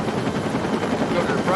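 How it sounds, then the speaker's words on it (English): A helicopter landing close by gives a dense, steady rotor roar with a fast chopping pulse, loud and constant throughout with no break. "That's the helicopter landing right now"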